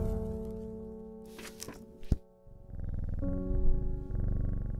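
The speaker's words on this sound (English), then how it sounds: "Pet the cat. The cat is good." A cat purring as it is petted in the plant-shop puzzle game Strange Horticulture, a soft rumbling purr under a gentle music bed after a few light thuds and clicks.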